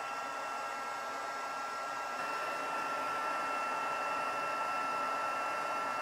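A heat tool blows steadily and alone throughout, a constant near whooshing hiss with a faint whine, used for heat embossing a stamped card.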